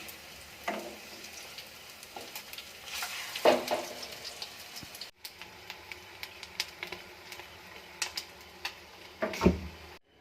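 Soft snacks made from leftover rice sizzling in oil in a pan, with a steady frying hiss broken by a few clattering utensil knocks as the pieces are carefully flipped.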